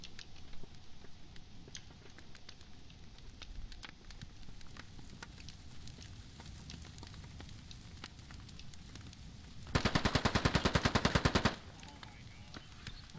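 Gunfire in the tactical shooter Squad: scattered faint distant shots under low ambient rumble, then a loud, close burst of rapid automatic fire lasting about two seconds before it stops.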